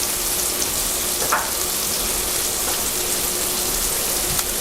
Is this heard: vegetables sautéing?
yes